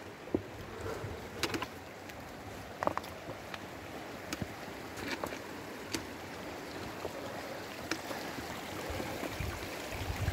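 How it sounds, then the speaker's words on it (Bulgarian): Water trickles and runs down a mountain trail toward Muratovo lake, a faint, steady wash with scattered clicks and knocks, heard without voices. "И тук се стича вода, от всякъде вода."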